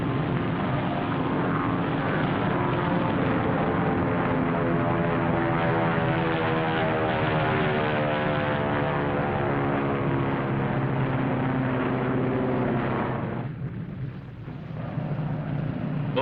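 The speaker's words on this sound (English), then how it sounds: "Photographic planes return from Bikini and land on their floating bases at sea." Propeller-driven photographic planes drone steadily overhead near the target fleet at Bikini, a loud continuous engine roar with a slowly shifting pitch that dips briefly near the end.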